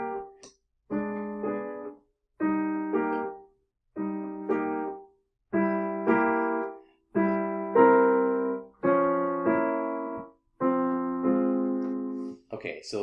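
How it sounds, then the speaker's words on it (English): Piano chords played in short, separated blocks, about eight sustained chords in a steady rhythm with brief gaps between them, each ringing and fading, close and clear with no talking. "In the middle of this are chords, and the chords sound something like this."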